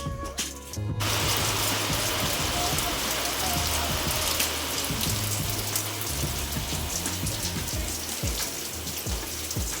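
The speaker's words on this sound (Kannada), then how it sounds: "ಮಳೆ ತುಂಬ ಬರ್ತಾಯಿತ್ತು ಜೋರಾಗೇ" Heavy rain pours down outside a house, a dense, steady hiss of drops hitting the ground and surfaces, loud and continuous, with scattered sharper patters and a low hum underneath.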